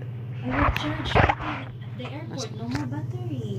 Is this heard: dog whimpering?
yes